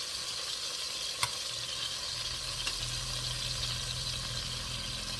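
Oxtails fry in a pan with a steady, low-level sizzle that hisses on continuously, broken by a couple of faint clicks from handling the pan.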